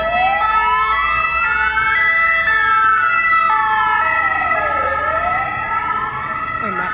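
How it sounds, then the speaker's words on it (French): An ambulance siren wails close by, its pitch sweeping up and down in long rising and falling tones, loud and continuous. "Il en fait du bruit, le monsieur, là, avec son ambulance."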